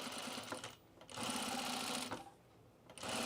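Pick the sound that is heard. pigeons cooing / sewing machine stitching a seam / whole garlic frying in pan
sewing machine stitching a seam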